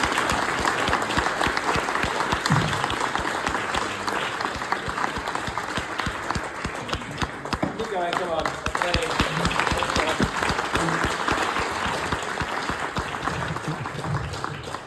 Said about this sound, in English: we'll give them a huge round of applause